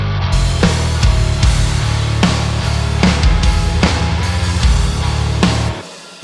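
A gritty bass guitar with added distortion, its low end filtered out before the distortion, chugs through a riff with heavy low end and buzzing overtones, loud and continuous before cutting off.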